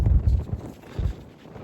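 Wind gusts buffet the microphone on a mountain trail, a low rumbling roar in uneven bursts that swell and fade, loud and close with no voices.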